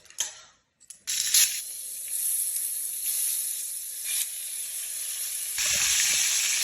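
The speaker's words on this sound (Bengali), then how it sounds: "আজকে কুমড়ো আর করলা ভাজি করব, একদম পারফেক্ট কম্বো।" Pumpkin and bitter gourd pieces frying in a pan, a bright steady sizzle that bursts in after a brief quiet start, swells for a moment, then holds as a close, continuous hiss with no talking.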